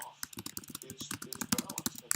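Rapid, irregular clicking of keys being typed close up, a quick stream of taps with faint voice-like murmur underneath.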